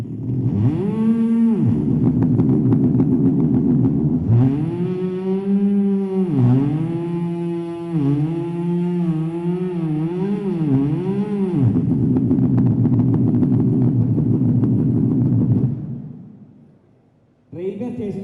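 A voice imitates a wood-cutting machine saw, sustaining a loud droning whine with rising and falling pitch sweeps like a blade biting into timber for about fifteen seconds, then trailing off before a brief restart.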